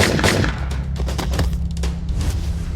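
A rapid burst of loud .38 revolver gunshots, several close reports in quick succession over a low rumble.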